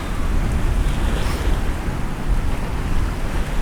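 Waves and wind on a beach in Puerto Plata blend into a steady, loud rushing roar with heavy low-end wind buffeting on the microphone, continuous with no voices.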